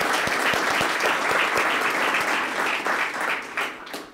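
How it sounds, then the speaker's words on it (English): Sustained applause from an audience at a press conference honoring grant recipients, steady dense clapping throughout that tapers slightly toward the end. "So let's give a round of applause to all of our grant recipients."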